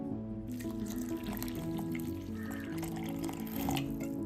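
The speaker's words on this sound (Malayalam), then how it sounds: "ഇനി അടുത്തിന് നമുക്ക് അരയ്ക്കാൻ ആവശ്യത്തിനുള്ള വെള്ളം ഒഴിച്ചു കൊടുക്കണം." Water poured into a kitchen grinder jar over ingredients for a vada kootu curry paste, a soft trickling splash heard faintly under steady tonal background sound.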